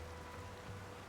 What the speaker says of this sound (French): Zut, il pleut, ça je te confirme.